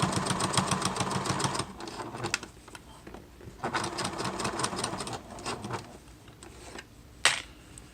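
A sewing machine stitches a crossbody wallet in fast whirring bursts, running forward, pausing briefly, then running again in a back stitch, with a sharp click near the end.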